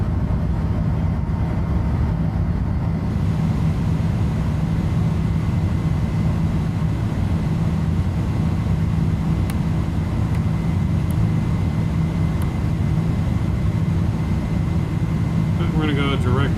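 Steady, loud engine roar and cabin rumble from an iniBuilds A310 airliner climbing out of Dubai toward Bahrain in Microsoft Flight Simulator, a constant drone with faint clicks near the end.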